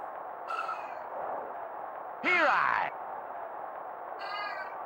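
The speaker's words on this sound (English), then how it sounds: "That's my cat yelling" A sick pet cat yowls loudly indoors in three separate drawn-out meows, the middle one longest and loudest, over a steady background hum.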